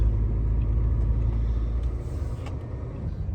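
A car leaving a ferry port gives a steady low engine rumble and road drone from inside the vehicle, with a faint hiss partway through.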